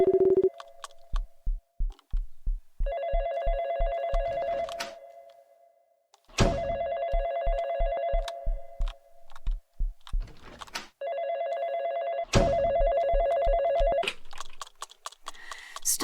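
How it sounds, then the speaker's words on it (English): Telephone ringing in a horror pixel video game, three long repeated bursts of a loud, close electronic ring, each followed by a low rhythmic pulsing, with brief silences between rings. "Ring, ring. Yep, that phone's gonna start."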